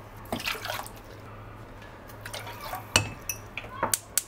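Water poured onto granulated sugar in a pot for a dessert syrup, a few soft splashing and trickling bursts with small clinks against the vessel, close and fairly quiet over a low steady hum.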